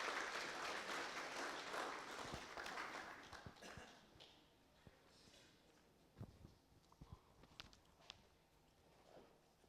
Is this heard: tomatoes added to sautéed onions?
no